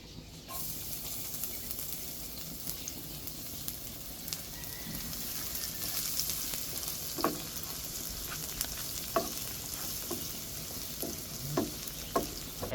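Lapu-lapu, or grouper, sizzles steadily in hot oil in a pan, a constant close hiss with scattered crackles and pops that grow more frequent toward the end.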